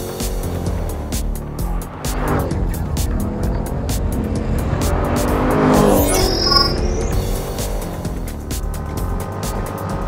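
A 2020 Chevrolet Corvette Stingray Z51 on its original high-performance tires drives a hot lap on a race track. The engine roars loudly and steadily throughout, rising and falling with shifts and corners, heard up close.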